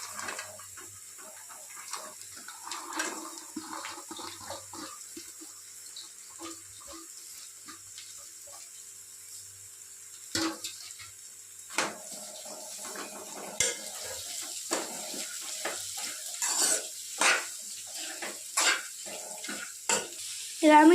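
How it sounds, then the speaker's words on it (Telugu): Grated cabbage tossed into a hot pan for a cabbage masala curry, giving a quiet, wet sizzle with scattered scraping and stirring clicks that grow more frequent toward the end; no talking. "ఇప్పుడు మనం దీంట్లో ఫస్ట్ తురిమి పెట్టుకున్న క్యాబేజ్ని వేసుకొని ఫ్రై చేసుకుందాం"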